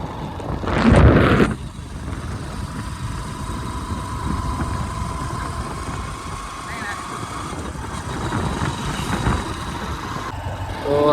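A motorbike rides along a village road past water-filled fields, its engine a steady mid-pitched hum with road rumble throughout, opening with a louder burst of wind or handling noise.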